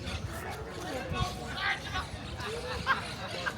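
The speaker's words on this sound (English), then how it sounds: "There are people shouting." Beach crowd in Marbella with people shouting, a steady hubbub of many distant voices and occasional louder calls rising above the babble, continuous throughout.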